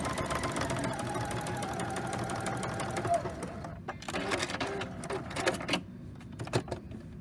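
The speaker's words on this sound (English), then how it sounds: "we're just going to stitch that diagonal line" A sewing machine stitches a diagonal line across quilt binding, a close, steady rapid whirring that runs for several seconds, then breaks into shorter, uneven bursts.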